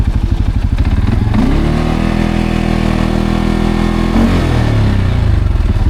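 A CF Moto CFORCE 625 ATV engine chugs at idle close up, then revs up to a steady, higher drone for a few seconds before dropping back to a rhythmic idle.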